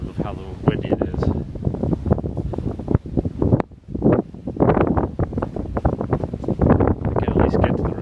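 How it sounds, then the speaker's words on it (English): A strong Valentine's Day blizzard wind roars and buffets the microphone in loud, uneven gusts that barely let up. "You'll probably get a really good effect of how windy it is."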